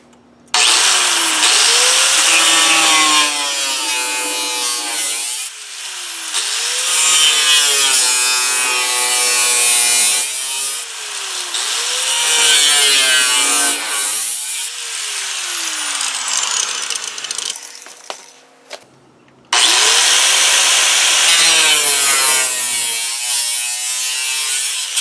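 A power cutting tool bites through the sheet-metal fender of a 1999-2004 Jeep Grand Cherokee in several loud, sustained passes, with short pauses between cuts and a whining, rasping tone.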